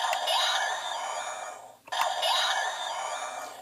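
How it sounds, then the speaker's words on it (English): A Kamen Rider Ex-Aid DX Buggle Driver toy's electronic laser effect plays twice: bright, warbling synthetic zaps with descending sweeps, separated by a short gap. "So, this is your laser sound,"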